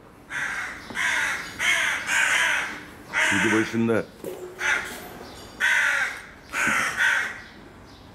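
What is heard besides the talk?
crow cawing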